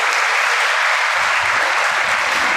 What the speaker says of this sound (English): So I think a round of applause for the vice principal